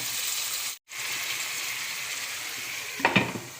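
Tomatoes with turmeric sautéing in a pan give a steady, close hissing sizzle with a brief dropout, followed by a few clinks of a utensil against the pan.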